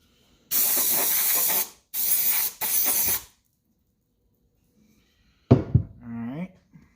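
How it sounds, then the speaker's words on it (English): Three sharp bursts of brake cleaner spray during front differential re-shimming, a long hiss followed by two shorter ones, close and loud, then silence and a brief clatter near the end. "Gotta get my brake cleaner."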